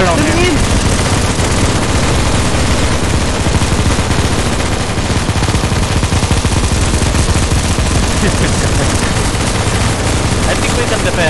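Dense, nonstop automatic gunfire from the CS:GO Zombie Escape map ze_black_lion_p2, many weapons firing at once in a loud, unbroken barrage, with voices faintly mixed underneath.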